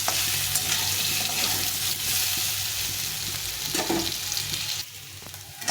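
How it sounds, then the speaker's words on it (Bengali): Young taro pieces frying in a pan over low heat, a loud continuous sizzle with stirring scrapes, easing slightly near the end. "এইভাবে ভেজে নিতে হবে, একটু লাল লাল করে ভেজে নিতে হবে"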